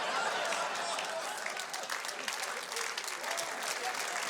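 Steady, dense applause from an audience fills the whole stretch, a continuous wash of many hands clapping at an even level with faint crowd murmur beneath.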